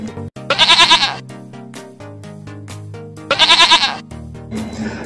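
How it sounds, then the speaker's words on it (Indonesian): A goat at a farm animal feeding spot, two loud, wavering bleats separated by a few seconds, close, over a backdrop of cheerful music. "Nah, itu dia teman-teman kambingnya."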